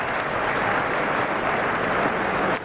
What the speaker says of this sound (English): Appreciative crowd in there.